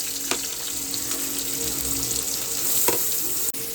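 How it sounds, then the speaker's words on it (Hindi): Onions with garlic and green chillies frying lightly in a pan, a steady close sizzle with faint scraping knocks throughout, no voices. "तो प्याज को हल्का सा फ्राई करेंगे"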